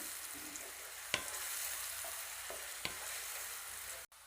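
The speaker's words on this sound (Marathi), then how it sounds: "एक मोठ्या आकाराचा बारीक कापलेला कांदा ॲड करायचा आहे कांदा तेलामध्ये चांगला फ्राय करून घ्यायचा आहे" Chopped onion frying in hot oil in a pan for a Maharashtrian green moong amti, a steady close sizzle with two sharp clicks of a spoon stirring against the pan.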